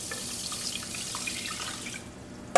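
Tap water runs steadily into a pot of chicken broth in a home kitchen, a continuous splashing hiss that stops near the end with a small clunk.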